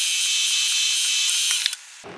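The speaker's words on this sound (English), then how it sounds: "I'm drilling an 11/64 pilot hole for that countersink." A drill whines at a steady high pitch for about two seconds, boring an 11/64-inch pilot hole in metal, then cuts off with a couple of small clicks.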